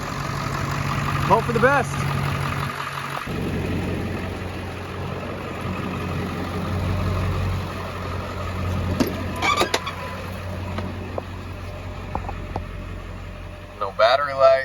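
A 7.3L diesel engine in a 1999-2003 Ford F350 pickup idles steadily after an alternator replacement, a continuous low rumble running throughout with someone talking over it and a few clicks and knocks near the end.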